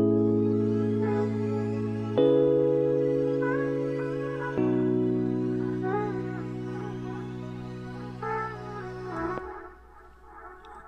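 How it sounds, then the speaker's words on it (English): An Afrobeats beat built in Logic Pro layers warm sustained electric piano and pad chords under airy vocal synth textures. The chords shift every few seconds, the full layered sound plays alone with no talking, and it thins out near the end. "And then combine that with the electric piano and the pad"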